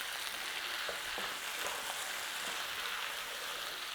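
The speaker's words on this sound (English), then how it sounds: "Let's give this another little stir over." Lamb nihari paste sizzles steadily in a pan while being stirred, with a constant frying hiss and a few soft scrapes, close and fairly quiet, no talking.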